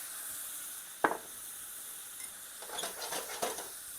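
Worcestershire sauce hits a hot pan with steak for Steak Diane, giving a sharp splash followed by crackling sizzle and a few stirring clinks, close and moderately loud.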